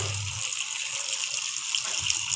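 Tap water pours into a bucket of washed potato slices for homemade wafers, a steady bright gush running for the full couple of seconds with no one talking.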